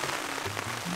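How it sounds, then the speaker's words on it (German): Heavy rain patters steadily and loudly on a camping tarp during a stormy wild-camping bivouac, a dense continuous hiss with no talking. "es hat jetzt auch ziemlich stark angefangen zu regnen"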